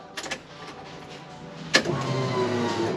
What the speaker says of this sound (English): we'll turn the ignition on and see if we can hear the fuel pump